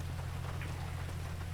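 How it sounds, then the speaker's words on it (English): Steady rain falls in the GTA 5 video game, a constant close hiss of drops with a low rumbling bed underneath, heard alone for a brief moment without any talking. "This rain keeps coming and going."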